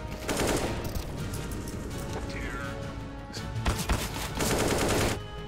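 Bursts of rapid gunfire ring out in the CS:GO shooter game, loud sharp cracks in quick volleys with brief pauses between them, under some background talk.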